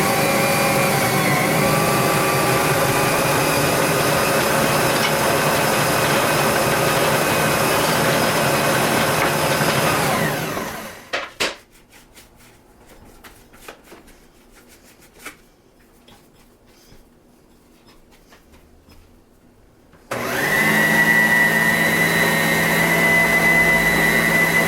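Electric mixer beating cookie dough for Valentine's Day treats, running loud and steady for about ten seconds, stopping for a quieter stretch with faint clatter, then starting again at full whir.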